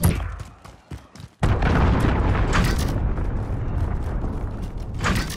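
Cruise missile explosion in the Call of Duty: Modern Warfare video game: a loud, close boom that hits after a second of scattered smaller sounds and rolls on as a sustained roar for several seconds.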